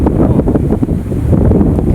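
Strong wind blowing across open farmland, buffeting the microphone in loud, gusty low rumbles for the whole stretch, with no clear speech.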